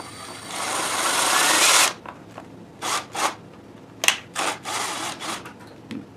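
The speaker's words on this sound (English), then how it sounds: "drill this where I want it" A power drill whirs steadily for about two seconds while drilling into a plastic bucket, then stops, followed by several short bursts of drilling and a sharp knock.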